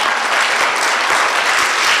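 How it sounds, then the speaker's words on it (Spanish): A church congregation applauds during a sermon, a dense, loud, continuous wash of clapping from many hands. "¿Por qué no le da un aplauso al Señor?"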